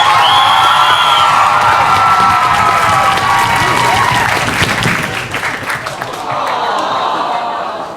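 Live applause and cheering from a crowd of parents and children at a comedy improv show, loud and sustained with whoops and shouts, thinning slightly toward the end.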